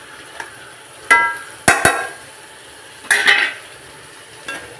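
Squid thoran ingredients being mixed in a pan for a Trivandrum-style kanava thoran: a few sharp metallic scrapes and clanks of a spoon against the pan, separated by short quiet gaps, close and loud.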